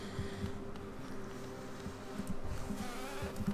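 Angry bees in a beehive in the game Hollow Knight, a continuous low buzzing drone with small flutters, steady and moderately close, with no talking over it.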